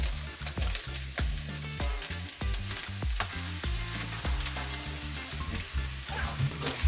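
Pineapple fried rice with mixed vegetables and egg sizzles loudly in a hot pan while being stir-fried, with repeated rhythmic scraping strokes over a constant frying hiss, close and without voices.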